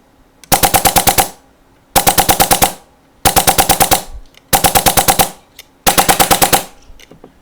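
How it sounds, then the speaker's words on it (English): A gun in burst mode fires five separate rapid bursts of roughly seven shots each, evenly spaced with short silent gaps between them, loud and close. "It's going to be a 7-round burst"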